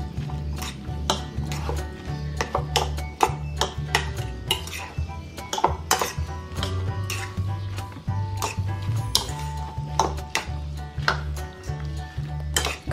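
Spaghetti with tomato sardines stirred in a pan, with a steady run of close utensil scrapes and clinks against the pan over a low background hum, loud and continuous.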